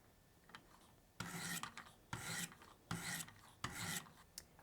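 Knife edge drawn in repeated rasping strokes across a WE66 Obsidian guided sharpener, the angle lowered with each pass toward about 21 degrees; four close, steady scraping strokes with short pauses between, alone.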